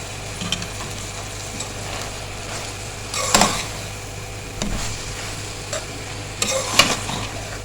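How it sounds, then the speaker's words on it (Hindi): Kachnar chicken with green chillies and garam masala fried in a pan, with a low continuous sizzle and a few bursts of scraping, stirring strokes spaced apart. "अब इसको थोड़ा सा भून लेंगे 2 से 3 मिनट बस"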